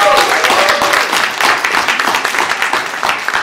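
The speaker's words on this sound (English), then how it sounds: "Give yourself a huge round of applause." Applause from an audience of about thirty people fills the room, a dense burst of clapping that stays loud throughout and thins a little toward the end.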